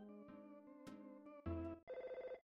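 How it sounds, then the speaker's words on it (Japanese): Telephone ringing in the SNES game MOTHER 2, a quiet chiptune ring of stepped electronic tones that ends in a fast trilling burst, heard alone without talk. "電話。"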